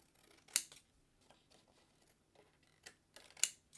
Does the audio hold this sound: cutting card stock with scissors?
yes